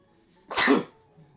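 A single sharp, loud sneeze bursts out close by, brief and explosive, surrounded by near silence.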